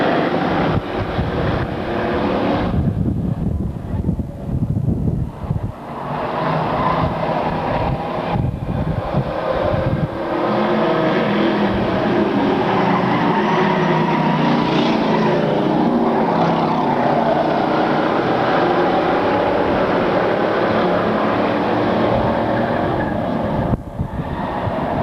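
Race cars roaring around an oval track, a loud continuous engine drone that swells and fades as the pack passes, with no voices heard.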